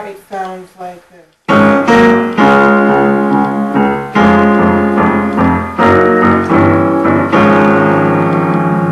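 Piano chords for a hymn, "Power in the Blood", are played in a full, loud, sustained series of struck chords after a brief quieter lead-in.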